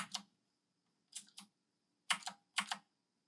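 Keys clicking on an AJazz AK50 budget mechanical keyboard, four short bursts of two or three crisp keystrokes each, close and clear against near silence.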